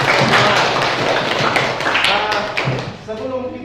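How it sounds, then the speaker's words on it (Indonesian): A school class claps hands with dense, close, busy clapping that tapers off, with voices talking and calling out beneath it. "Tepuk tangan dulu."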